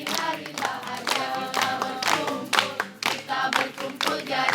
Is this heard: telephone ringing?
no